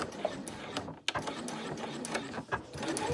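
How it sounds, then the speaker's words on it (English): A sewing machine back stitches a clutch seam at a 1/2 inch allowance with a short stitch length, a close, steady mechanical whir broken by brief pauses and clicks as direction changes. "using a 1/2 inch seam allowance, going all the way around using a shorter stitch length. I like to start on a straight edge. I will back stitch"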